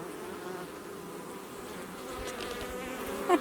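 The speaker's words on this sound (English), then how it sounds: "This is the big hive. You can see them dancing." Honeybees buzz steadily at a large, busy beehive, a continuous close droning hum with no voices.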